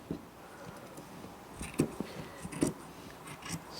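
Small sewing scissors snip off excess thread beside a garment pocket, a few quiet crisp cuts near the middle and end amid soft handling rustle, no talk.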